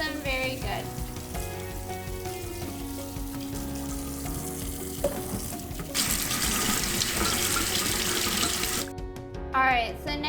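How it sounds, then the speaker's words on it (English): Running tap water rushes over potatoes as they are washed in a kitchen sink. The steady splashing swells in the second half over soft background music. "I'm going to take my potatoes and I'm going to wash them very good"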